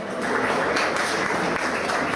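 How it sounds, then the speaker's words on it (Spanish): Audience applause at a cultural event in front of a shopping centre, a dense, steady wash of many hands clapping throughout, fairly loud and continuous. "un aplauso para la gente de acá"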